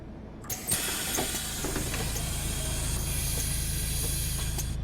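A MAN Lion's City double-decker bus engine in The Bus simulator game cranks with a couple of sharp starter bursts, then settles into a steady, rumbling idle with a constant hiss, close and unbroken.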